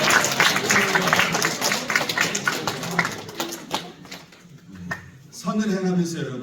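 A church congregation at a New Year service claps in a brief burst that thins out, followed by someone speaking; the clapping sounds moderately close and irregular.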